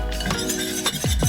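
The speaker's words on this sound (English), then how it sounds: "Our new pepper grinder from Creighton." Peppercorns crunched through a Creighton pepper grinder over a stovetop roux of butter and flour, a dense gritty crackle with a few sharper clinks, close and steady for about a second.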